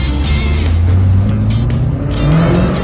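Pontiac Firebird accelerating at half throttle with tire slip: a loud, steady engine drone rising in pitch, with rough tire noise running close throughout.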